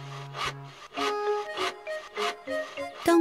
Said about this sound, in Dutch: Hij zaagt houtblokken in planken.